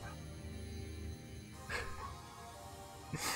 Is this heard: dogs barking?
yes